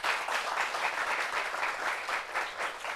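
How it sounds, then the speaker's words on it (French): An audience at a gathering applauds a guest with steady, dense clapping that holds at an even level for about three seconds. "Applaudissements pour lui."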